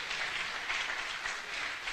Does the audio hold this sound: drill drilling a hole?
no